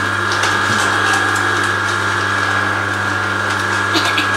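A Biochef 888 juicer grinds and crushes a hard apple, giving a loud, steady mechanical drone with a constant motor hum and rough crunching texture throughout, no speech.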